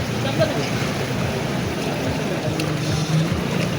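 A car pushes through deep floodwater on a street in Tongi's Khapara area after heavy rain, with water rushing in: a continuous, close wash of churning water over a low engine rumble and some wind buffeting.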